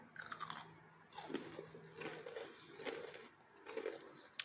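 Crisp bites and chewing on honey-soaked banana zlabia, a sweet fried pastry, give soft crunches repeated several times close to the mouth, quiet and with no talking.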